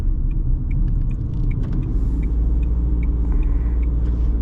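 A car drives through city streets, its low engine and road rumble steady and close throughout, with faint light ticks and clicks above the drone and no voices.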